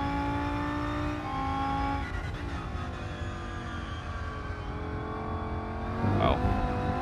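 Race car engine in the Rennsport racing game holds a steady droning note with shifting harmonic pitch as it changes speed, rising in a brief louder rev burst near the end, with a voice talking over it.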